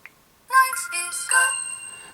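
An LG G2 phone ringtone plays a choir singing: bright sustained choral notes start abruptly after a short silence, then swell again midway and fade.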